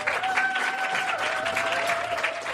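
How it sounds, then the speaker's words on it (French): Audience applause welcoming a Pilates instructor onto a stage, dense steady clapping that fills the whole moment, with a faint sustained tone beneath. "On va vous demander un tonnerre d'applaudissements pour Ludivine."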